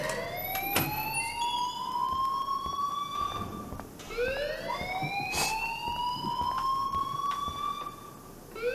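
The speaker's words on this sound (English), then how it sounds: "please turn off that alarm" A school alarm in the video game Life Is Strange wails in rising, siren-like sweeps that restart about every four seconds, loud and unbroken with no voices over it.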